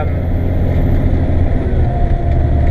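A Kenworth truck being driven, its engine a loud, steady low rumble with a faint high whine on top, heard from close inside the cab without talking.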